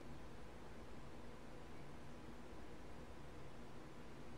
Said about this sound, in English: White noise, the sound of silence.